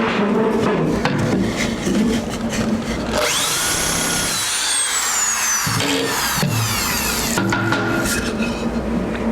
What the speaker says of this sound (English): I'm going to drill a fourth one real quick